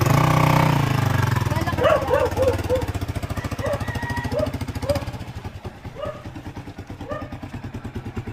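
A motorcycle engine idles close by with a fast, rough putter, revving briefly near the start before settling; faint chatter and clatter sit underneath.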